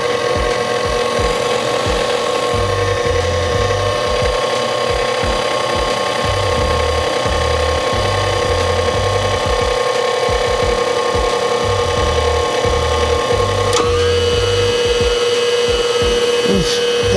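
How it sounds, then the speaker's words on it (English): A KitchenAid stand mixer churns donut batter with a loud, steady motor whine and a rhythmic mechanical clatter from its gears, running continuously without any talking. "That's a KitchenAid, right? That's a classic KitchenAid sound."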